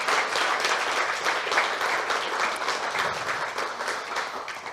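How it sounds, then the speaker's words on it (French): Steady applause from a sizable crowd, dense and even throughout, with no voices standing out. "on peut aussi les applaudir même si elles sont en bas"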